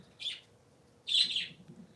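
Parakeets chirping indoors: two short, bright, high-pitched chirps about a second apart, the second a little longer, close and clear over a faint low background hum.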